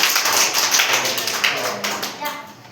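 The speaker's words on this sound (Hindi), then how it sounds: "ताली बजाओ।" A group of children clapping their hands in a classroom, rapid overlapping claps at close range that taper off toward the end, with a voice heard briefly in the background.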